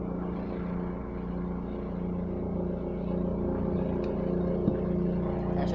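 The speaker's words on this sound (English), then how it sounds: "I think that's a helicopter." A helicopter passes overhead, its steady low rotor and engine drone holding constant and fairly loud throughout, with no talk.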